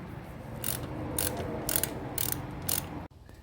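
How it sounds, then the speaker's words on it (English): A ratchet with a 5/8 socket breaks loose the primary drain bolt on a 2009 Harley-Davidson Sportster 48 1200 XL. Five short, close bursts of crisp clicking sound in steady rhythm, then stop abruptly. "It's a 5/8 bolt. Put a 5/8 on there."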